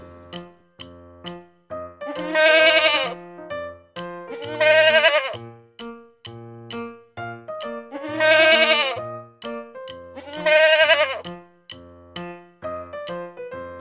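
A young goat kid bleats four times at steady, evenly spaced intervals, loud and close, over a constant ticking beat with no one talking.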